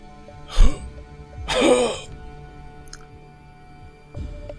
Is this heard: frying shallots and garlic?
no